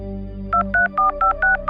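A telephone is dialled for a call to a broker: a low dial tone gives way to six quick, evenly spaced keypad beeps, loud and close.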